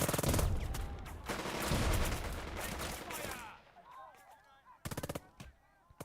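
Machine-gun fire in the Burden of Command war game: loud, dense volleys of rapid shots roll on for several seconds, then thin out into scattered distant pops and a few short, sharp bursts near the end.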